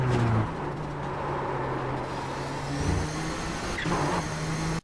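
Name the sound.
Nissan GTP ZX-T race car engine at Suzuka, iRacing video game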